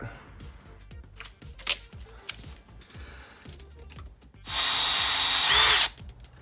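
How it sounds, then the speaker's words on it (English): A power drill bores a hole in an Arrma Kraton 6S RC car, a loud, steady whirring burst lasting over a second after light handling clicks and taps. "I got that hole drilled in there"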